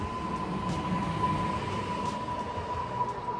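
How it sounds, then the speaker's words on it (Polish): A departing train rumbles steadily with a thin, sustained tone over the noise, a constant rolling din with faint clicks, no voices. "Nasz pociąg odjeżdża."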